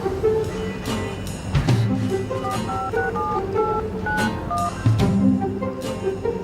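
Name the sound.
telephone dialing tones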